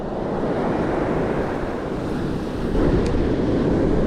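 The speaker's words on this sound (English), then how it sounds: "Wind is just absolutely relentless." Relentless strong wind buffets the microphone on an open surf beach while waves wash in a constant roaring rush, loud and unbroken, growing slightly stronger near the end.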